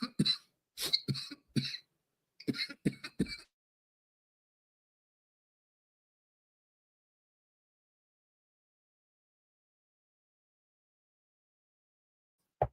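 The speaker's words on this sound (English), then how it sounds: "Sometimes you cough. One of those times is right now." Several coughs from a single person, close to the microphone, come in two short bursts before a long silence, ending with one brief faint sound.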